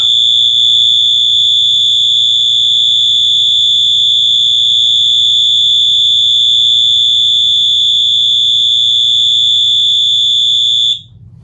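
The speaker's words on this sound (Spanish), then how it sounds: "la alarma va a hacer el mismo tiempo otra vez porque va para atrás" A 12V alarm driven by a timer relay gives one steady, piercing electronic tone for about eleven seconds over a low hum, then cuts off abruptly.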